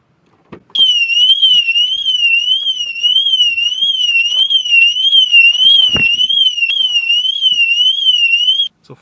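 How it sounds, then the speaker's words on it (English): A piercing Mercedes car alarm warbles up and down continuously and very loudly for several seconds, then abruptly stops, with a faint thud in the middle. "the alarm started to beep, and it's very loud, crazy loud"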